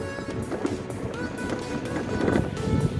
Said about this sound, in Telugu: ఇది డీజీఎస్ బైక్ అండి.